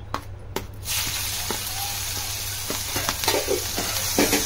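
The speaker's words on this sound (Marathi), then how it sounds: "आता आपण त्याच्यामध्ये घालूया ठेचलेली मिरची" Crushed green chili dropped into hot ghee, giving a close, steady hiss of frying that starts after a few quick clatters and holds for several seconds, with faint scrapes and rustles over it and no talking.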